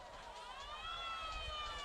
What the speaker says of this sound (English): the siren goes off